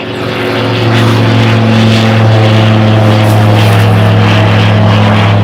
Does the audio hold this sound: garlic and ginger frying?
no